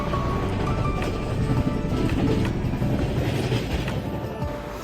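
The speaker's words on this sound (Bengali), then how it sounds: "তার মধ্যে এগিয়ে চলেছে আমাদের পাটনা এর্নাকুলাম সুপারফাস্ট।" Aboard the Patna–Ernakulam Superfast during heavy rain, the moving train gives a continuous, close rumble with rhythmic clickety-clack of the wheels and occasional metallic squeals running through the whole stretch.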